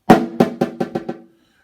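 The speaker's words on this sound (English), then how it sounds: "What is a buzz roll? It's a multiple bounce roll with a Z." A single snare drum stroke of a buzz roll played incorrectly, followed by five or six separate, slowing bounces, each weaker than the last, rather than a smooth continuous buzz.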